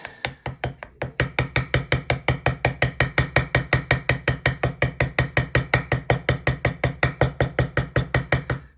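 A tool taps a steady, fast series of sharp dents into wood while stippling a carving, each close knock evenly spaced and repeating throughout.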